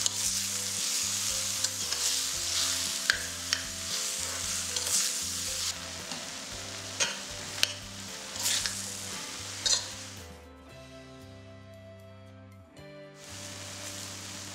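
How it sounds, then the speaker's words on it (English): Minced pork fries and is broken up in a hot pan, a steady sizzle with repeated scraping and stirring clicks, while a sustained musical tone plays underneath. "Break up the pork and fry it till it's white."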